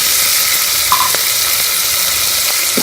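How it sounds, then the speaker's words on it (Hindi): Spices and tomatoes fry with browned onions in a pan, a steady loud sizzle with faint stirring scrapes throughout, no talking. "इसको अच्छी तरह से भून लेंगे मसाले को, ताकि हमारे टमाटर जो है अच्छी तरह से गल जाए।"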